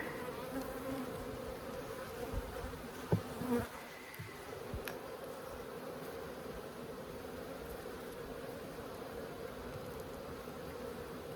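Honeybees at an open hive during an inspection in a Holts Summit bee yard, a dense, steady buzz of many bees close by, with a few brief knocks of handling partway through.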